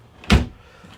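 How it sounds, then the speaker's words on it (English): A single drawer in the kitchen of a 2026 Newell Coach luxury motorhome slides and bumps shut with a short, close, fairly loud thud, followed by quiet. "Huge drawers. Yeah, we've got the drawers here"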